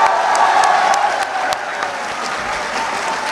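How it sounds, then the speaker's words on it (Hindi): An audience at a poetry event applauds steadily, a dense wash of clapping that holds throughout and eases off slightly toward the end. "और यार आपके लिए बहुत सी तालियां आप लोगों को।"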